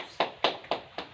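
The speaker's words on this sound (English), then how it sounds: "Please give a round of applause for each group." A classroom group is applauded with four sharp, evenly spaced claps in quick succession, fairly close and with no talking over them.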